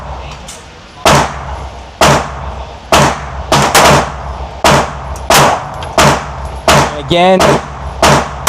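A compact pocket pistol, a Bodyguard 2.0 or LCP MAX, fires at a target: about ten sharp, loud shots spaced roughly a second apart, with a brief metallic rattle near the end and a voice speaking once.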